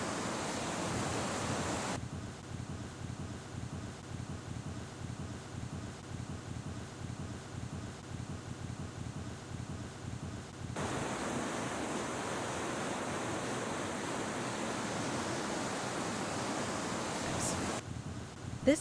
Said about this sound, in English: we see a creek flowing at a 50-year high